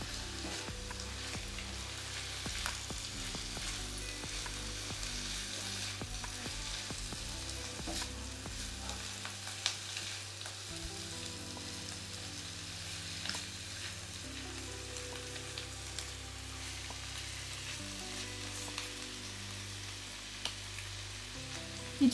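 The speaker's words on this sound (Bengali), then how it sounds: "কিছু সময়ের জন্য নাড়িয়ে দেব।" Bean and eggplant curry (shim begun chorchori) with chopped coriander fries in a pan while being stirred, a steady close sizzle with scraping stir strokes and small clicks running throughout, no voices.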